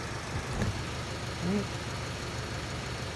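A 2010 Nissan Qashqai 2.0 dCi diesel engine idles with a steady low rumble throughout, while someone talks briefly over it.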